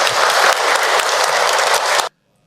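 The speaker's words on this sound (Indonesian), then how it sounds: "Tepuk tangan buat Bun" A loud, dense burst of crowd applause fills a Ramadan religious talk, steady for about two seconds before cutting off abruptly to silence.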